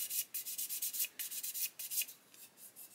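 Super glue is sanded on a plastic model kit of a Meng 1/35 Chieftain Mk10 tank, making short, quiet, rapid back-and-forth scratchy strokes close up in a steady rhythm, with no voices.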